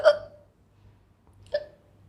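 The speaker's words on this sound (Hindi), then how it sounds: "जितनी देर मुझसे हिचकी आएगी मुझे उतनी देर मैं करूँगी पूरा अपना चैलेंज।" Two sharp hiccups from a woman doing a hiccup challenge with black pepper, one at the start and another about a second and a half later, close and fairly loud with near silence between them.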